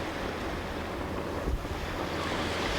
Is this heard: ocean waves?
yes